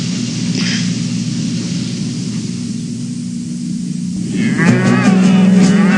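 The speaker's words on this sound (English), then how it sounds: "They call this cattle country." Cattle in open cattle country moo with one long, low, drawn-out call near the end, following several seconds of steady hiss and static from old film audio.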